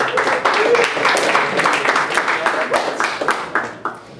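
Comedy club audience applauding as improv players come to the stage, dense clapping mixed with cheers and voices, fairly loud and close, tapering slightly toward the end.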